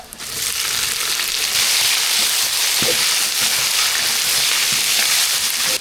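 Onions and spices hitting hot oil with dried red chillies and cumin already in the pan, a loud dense sizzle that rises quickly and holds steady to the end.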